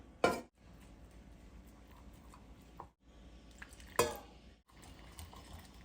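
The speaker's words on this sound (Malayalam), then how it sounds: "പാലൊഴിച്ചു കൊടുക്കാം, എന്നിട്ട് മിക്സ് ചെയ്യാം" Cake batter being mixed with milk and coconut oil: soft, continuous stirring and scraping in a bowl, broken by two sharp utensil clinks against the rim, close and fairly quiet.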